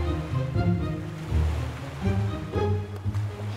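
Wild sea waves crash and surge continuously in a children's cartoon, a loud, rolling roar of surf that sweeps in and out without a break.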